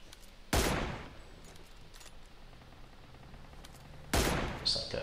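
Two sharp gunshots ring out in the mobile battle-royale game PUBG Mobile during target practice, several seconds apart over a low, steady game ambience.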